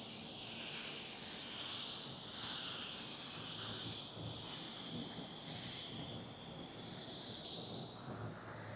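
A steady spray-gun hiss lays a coat of paint onto bare metal, held close and continuous for several seconds with a few brief dips where the trigger eases, no voices.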